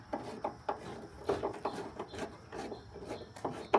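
Stainless steel bolt turned slowly by hand with a screwdriver while mounting a shelf on a Ford Bronco trunk door, giving quiet, repeated scraping and rubbing strokes up close.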